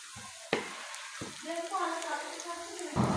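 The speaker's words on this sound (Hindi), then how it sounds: "इसी तरह हम दोनों साइडों से फ्राई करेंगे।" Potato pakoras with spinach and coriander frying in oil over a low flame, a soft steady sizzle with a few sharp clicks and bursts as pieces go in, no talk over it.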